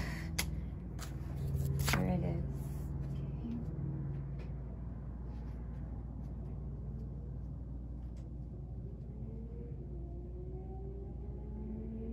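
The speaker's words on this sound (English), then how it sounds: "I will split the deck in a second." Tarot cards being split and shuffled, a soft riffling flutter rising briefly early on and then fading into a quiet room with low rumbling background hum and faint voices.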